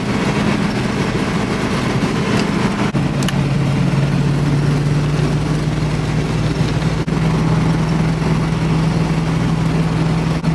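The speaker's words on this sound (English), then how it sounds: "you can already hear the wind coming through the truck" Steady wind roar and road rumble fill the cab of a moving truck in cold weather, a constant broadband rush with a low engine drone underneath and no talking.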